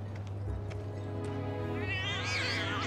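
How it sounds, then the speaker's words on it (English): Cats meow in Final Fantasy VII Remake, a few soft mews early on followed by a louder, drawn-out wavering meow near the end, over a low steady background hum. "Oh, kitty cats."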